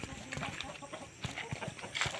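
Farm chickens cluck in short, irregular bursts amid a busy rural background, fairly close but not loud.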